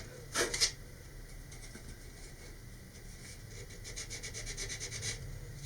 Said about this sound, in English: very fine sandpaper and just sand that smooth